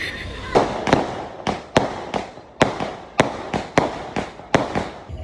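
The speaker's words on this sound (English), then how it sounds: "they're gonna do a little fireworks show over there." Fireworks show at midnight on New Year's: a rapid series of sharp bangs and cracks, about a dozen, irregularly spaced with crackling tails, moderately distant and fairly loud, no talk.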